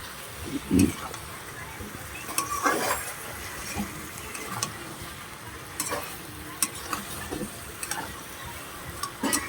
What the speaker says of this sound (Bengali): এটাকে ভালো করে নাড়াচাড়া দিয়ে নিতে হবে, একটু দেখতে হবে যাতে পুড়ে না যায় তলায়